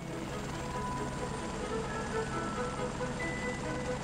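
A helicopter's steady droning whir fills the air continuously, with a voice speaking faintly underneath.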